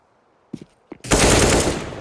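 AK rifle fire in a Counter-Strike esports match at DreamHack Open: a couple of short sharp shots, then a dense sustained burst of rapid automatic gunfire, loud and close with no voices over it.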